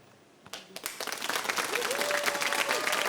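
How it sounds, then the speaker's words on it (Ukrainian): After a brief quiet moment, a crowd breaks into applause that builds quickly and continues loudly, with a voice briefly heard over it. "Ваші оплески то супер"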